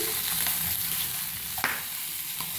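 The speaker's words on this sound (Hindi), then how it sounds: "ये देखिए हमारे मछली के साथ एक साइड से फ्राई हो चुके हैं" Pieces of fish frying in a pan for fish head curry, a steady broadband sizzle with a few brief stirring clicks, close and continuous with no talk.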